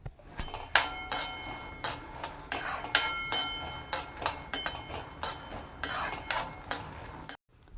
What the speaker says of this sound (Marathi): हे शेंगदाणे आपण भाजून घेऊया.